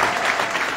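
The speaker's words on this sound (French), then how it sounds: "Est-ce qu'on peut applaudir pour Rachel, s'il vous plaît?" Theatre audience at the Casino de Paris applauding during a comedy show, a dense, steady wash of clapping from many hands filling the hall with no pauses.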